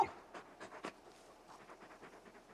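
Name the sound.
dog panting, Torgal in video game Final Fantasy XVI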